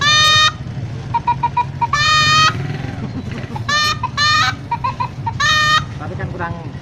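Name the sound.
toy bottle playing rooster crowing sound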